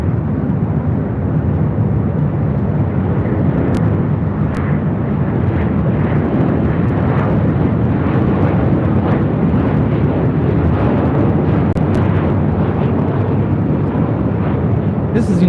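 A United Airlines Boeing 737-900ER arriving from Honolulu at LAX gives a loud, continuous rumbling jet roar that fills the whole stretch, with talk faintly over it.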